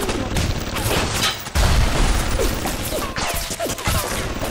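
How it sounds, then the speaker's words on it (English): A grenade goes off in the Bioshock video game, a loud booming burst at about one and a half seconds amid dense crashing and gunfire-like clatter, with a voice speaking faintly underneath. "Let's just throw a grenade up here."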